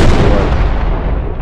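A mine blows up in an Unreal Engine 4 game, a loud, close, deep boom that fills the moment and then rumbles away as it decays, with no talking.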